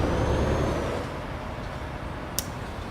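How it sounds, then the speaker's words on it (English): A Volvo truck engine in Euro Truck Simulator 2 rumbles with a loud, steady low drone that eases slightly after the first second, with a short high blip near the end. "So we'll start our truck, which is a Volvo."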